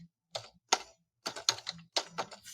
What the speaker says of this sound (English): I'm going to type in carbs in a Big Mac